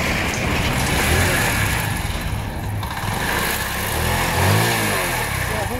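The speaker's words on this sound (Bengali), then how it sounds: "এখন ব্যাটারি ছাড়াও কিন্তু বাইক স্টার্ট নেবে" A Runner Bullet motorcycle engine, started after an electrical fault repair without relying on the battery, runs steadily and loudly up close, with a brief rise in revs toward the end.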